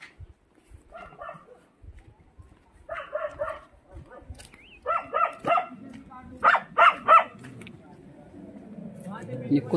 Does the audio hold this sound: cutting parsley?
no